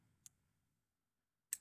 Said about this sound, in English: I'm just clicking and dragging